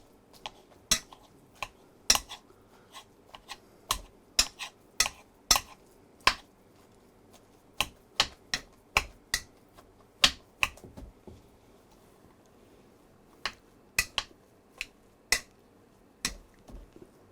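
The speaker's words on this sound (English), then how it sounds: "I'm going to mash them, and we'll add the rest of the cream as we go." Boiled potatoes are mashed in a pot with cream, a masher striking the pot in sharp, quiet, irregular clicks and knocks, bunched in bursts with short pauses between.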